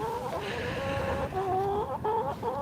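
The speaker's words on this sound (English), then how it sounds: "The chickens want to eat the hair on my legs." Chickens in a backyard garden by compost piles cluck close by, with a steady run of overlapping clucks and warbling calls heard clearly with no talk over them.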